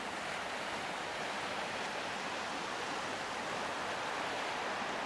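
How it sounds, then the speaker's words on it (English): Flooded Darebin Creek running as a fast torrent, a steady, dense rushing roar of water that stays constant throughout, with no voices. "But it is really flowing. A raging torrent, one might say."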